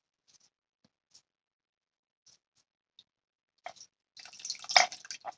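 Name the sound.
pouring Ningxia juice into a glass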